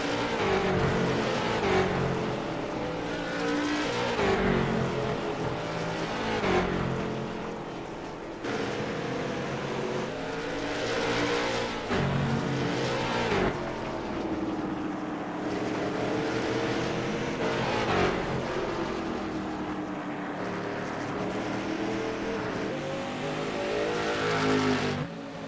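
Several race cars circle a track at speed, a continuous loud engine roar rising and falling as cars pass and accelerate, with no break throughout.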